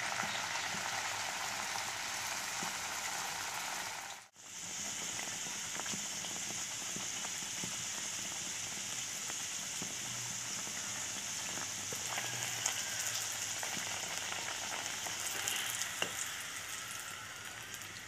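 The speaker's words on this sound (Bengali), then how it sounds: "এবার আর একটা পুরি আমি ভেজে দেখাচ্ছি।" Pea kochuri deep-frying in oil, a continuous close hiss and sizzle with a brief dip partway through and small crackles later, no talk.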